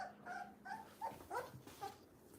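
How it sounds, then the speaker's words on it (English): A puppy whimpers and whines in a series of short, high, tremulous cries repeating every half second or so, close and fairly quiet, with no talk over it. "Let me see what's up with my puppy."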